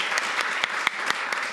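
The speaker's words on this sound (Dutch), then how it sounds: "Hartelijk applaus" Audience at a Dutch lecture and panel event applauding, a steady wash of crowd clapping with individual sharper claps popping out at regular moments.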